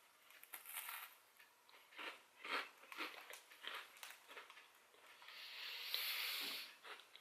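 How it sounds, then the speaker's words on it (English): A crunchy chocolate-topped biscuit is bitten and chewed close up, with soft irregular crunches and crackles repeating at a slow rhythm, faint and alone, ending in a longer hissy rustle. "The biscuit is really, really crunchy, and then the chocolate is just so smooth on top."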